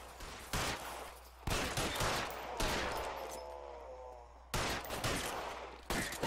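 Gunfire crackles through a shootout in the L.A. Noire video game, with several sharp, loud shots and short bursts spaced out over a few seconds against a steady background hum.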